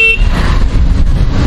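A Hero Electric Optima lithium electric scooter gives one short, high horn beep at the start, followed by low road and traffic rumble.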